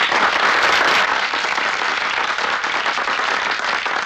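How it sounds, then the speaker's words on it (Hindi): Dense audience applause fills a film scene after a speech about fighting gangsters, loud and steady throughout, strongest at the start and easing slightly, with no voices over it. "तालियां मत बजाइए"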